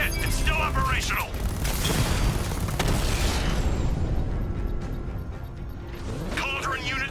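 A Cauldron unit in the Batman: Arkham Knight video game bursts apart in a loud, rumbling explosion amid mechanical clatter and gunfire, then the roar fades away toward the end.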